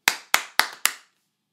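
Four sharp, evenly spaced hand claps and knee pats ring out close and crisp in a quick rhythm, each decaying fast before silence.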